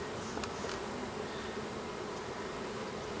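Honey bees around a nuc hive make a faint, continuous buzzing hum, with an occasional nearer flyby briefly rising above the soft drone.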